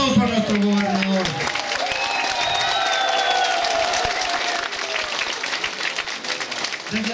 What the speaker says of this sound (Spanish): démosle un aplauso a nuestro gobernador